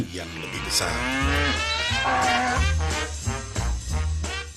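A cow moos loudly and close, a long drawn-out lowing call with a second bellow following, rising and falling in pitch.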